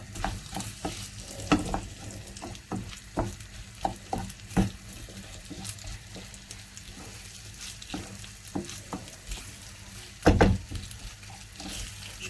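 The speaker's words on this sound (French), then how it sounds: "Il faut tout le temps les mélanger pour que ça ne brûle pas." A spoon repeatedly scrapes and stirs rice and vegetables with spices in a single frying pan, irregular close knocks and scrapes over a quiet, steady sizzle, with no talking.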